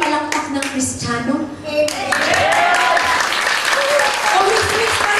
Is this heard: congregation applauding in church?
yes